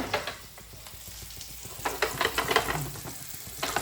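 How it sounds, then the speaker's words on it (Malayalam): Chicken pieces frying in hot oil, a soft continuous sizzle with scattered crackles and pops that grow busier toward the end, with no talking. "ഇത് ഹേമ സ്പെഷ്യൽ ചിക്കൻ ഫ്രൈ ആണ്"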